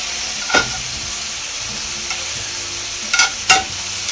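Ground beef for tacos frying in a pan with a steady close sizzle throughout, broken by a few sharp scrapes and clinks of stirring.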